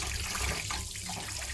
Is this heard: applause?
no